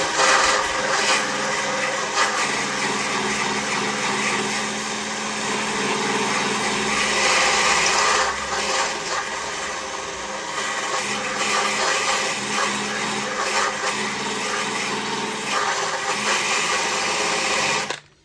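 A wire wheel grinds rust off a Mazda MX-5 NC Miata in one loud, steady abrasive whir, nearly continuous with slight dips, then cuts off abruptly at the end.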